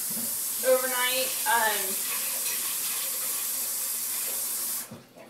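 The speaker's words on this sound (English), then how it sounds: "we're just going to cover this with some cold water and soak it overnight." Cold tap water runs into a bowl of dried mixed beans being covered for overnight soaking, a steady hiss of flowing water with a few brief voiced sounds early on, stopping near the end.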